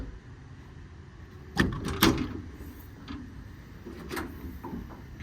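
A few short sliding clunks of truck toolbox drawers with rubber mats being moved open and shut, with soft rattling in between, fairly close.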